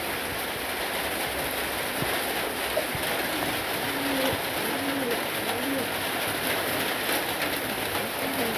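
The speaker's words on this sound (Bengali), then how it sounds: "আমাদের কবুতর" Pigeons coo in soft, repeated low calls a few times midway, set against a constant loud hiss of heavy rain falling outside their roost.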